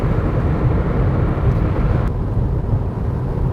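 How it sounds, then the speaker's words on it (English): Road and tire roar inside a moving 2003 Nissan Sentra fitted with new tires, a steady low rumbling drone with a faint click partway through and no talk. "The tires are a bit noisy."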